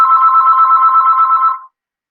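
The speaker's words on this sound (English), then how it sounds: "my phone's ringing" A single loud electronic phone ring, a warbling trill held for about a second and a half before cutting off abruptly, followed by silence.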